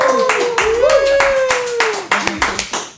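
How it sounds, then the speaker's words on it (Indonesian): A small group claps for a round winner, scattered claps heard close and under a sustained sung or voiced tone and talk, ending in a few sharp individual claps. "Kita tepuk tangan semua untuk pemenang di round kali ini."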